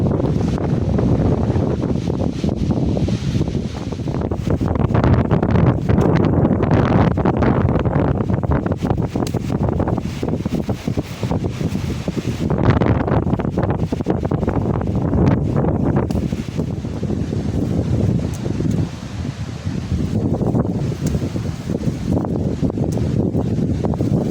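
Strong, gusty wind roars steadily across an open farm field and through trees during sesame harvesting, with heavy microphone buffeting throughout.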